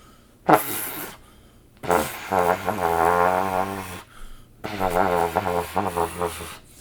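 A trumpet note blown with a faulty embouchure comes out too low, sounding as a buzzy, fart-like blat followed by two sustained wavering tones, loud and close with brief gaps between them.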